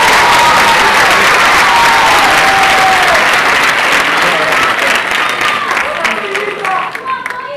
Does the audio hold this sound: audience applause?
yes